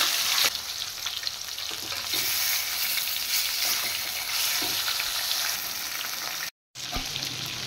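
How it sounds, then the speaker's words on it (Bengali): Boal fish heads fry in hot oil, giving a continuous loud sizzle with occasional stirring scrapes and one brief cut near the end. "প্রথমে মাছের মাথাগুলো ভেজে নিচ্ছি।"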